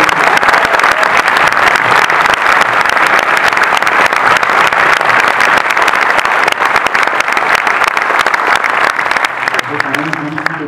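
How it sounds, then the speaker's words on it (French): Loud, dense applause from a theatre audience at a film screening in La Rochelle, sustained and close, with a speaking voice surfacing faintly under the clapping near the end. "Plus d'applaudissements à La Rochelle"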